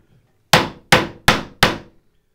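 Four evenly spaced, sharp hammer taps drive metal frets into a wooden ukulele neck with a small, light hammer, each strike close and crisp with a short decaying ring.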